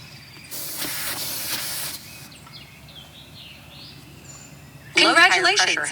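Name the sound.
air hissing from truck tire valve while screwing on TPMS sensor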